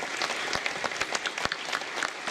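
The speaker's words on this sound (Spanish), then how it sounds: "Pues un aplauso muy fuerte" An audience at a 2017 congress in Capilla del Monte, Argentina, claps throughout, a fairly faint, slightly distant wash of many hands with scattered sharper claps.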